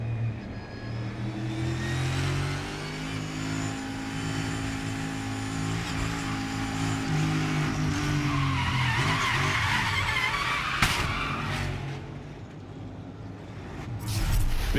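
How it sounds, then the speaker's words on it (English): NASCAR Cup race car at the Charlotte ROVAL skidding with squealing tires and a droning engine, then a sharp impact to the back of the car, loud and close, with no talk. "Big hit there for Suarez, the back of that car."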